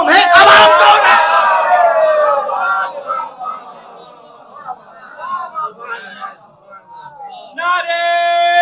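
Congregation at a Shia majlis in Kolwezi shouting religious slogans in unison, a loud, ringing massed cry that fades into scattered voices and murmurs before another chant swells at the end.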